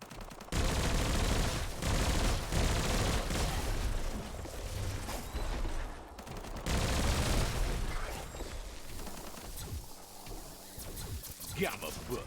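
Rapid bursts of gunfire fill a Biomutant video game battle, dense and loud crackling volleys running most of the time with a brief lull, mixed with game effects while a person talks over it.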